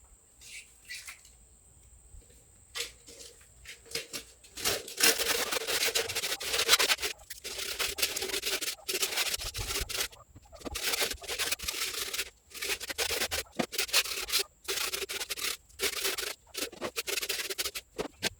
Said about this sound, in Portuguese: Então vamos começar aqui a lixar as nossas cabaças.